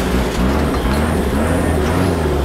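Toyota FJ40 fitted with a Mega Cruiser engine accelerating off-road, a loud, steady, close diesel drone with deep rumble and no talk.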